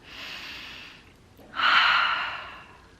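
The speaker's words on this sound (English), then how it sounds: "Deep breath." A deep breath, taken and then let out: a soft inhale, a brief pause, then a louder, longer breathy exhale, close and alone.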